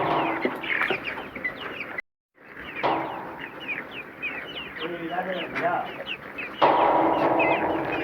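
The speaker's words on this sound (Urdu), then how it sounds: "یہ ہے مرغیاں جو تیار ہو چکے ہیں" Inside a poultry farm holding thousands of market-ready chickens, a crowd of birds clucks and chatters continuously, with occasional louder squawks and a brief dropout, while someone talks over the flock.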